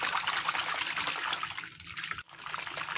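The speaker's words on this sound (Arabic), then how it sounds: "هحط عليه شوية مية كده عادية من الحنفية" Ordinary tap water runs steadily from a faucet onto a plate in a kitchen setting, a continuous hissing splash that dips briefly near the end, fairly quiet and with no talking.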